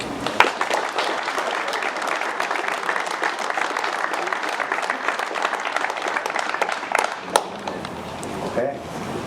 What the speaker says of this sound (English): just one big clap then for Upperchurch for a great game